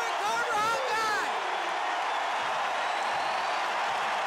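An arena crowd at Carver-Hawkeye roars and cheers after a college wrestling pin over Penn State. The crowd noise holds as a broad, steady wash, and a commentator talks over it at the start.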